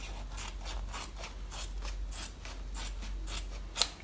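Scissors snip through fabric for a two-tone quilted matelassé bag, producing a steady run of about a dozen rhythmic, close crisp cuts, with no talking.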